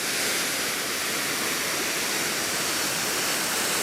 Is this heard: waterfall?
yes